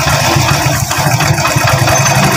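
A motorcycle engine with a carburetor idles loudly and close by while its air screw is turned, holding a steady, throbbing idle.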